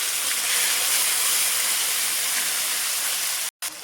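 Ginger paste fries in hot oil with cumin, bay leaf and dried chilli, making a dense, steady hiss that stays loud and close before briefly cutting out near the end.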